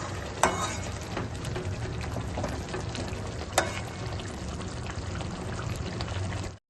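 Egg omelettes frying in a pan in a home kitchen, a steady broad sizzle that holds constant throughout, with a couple of brief clinks or taps breaking through the hiss.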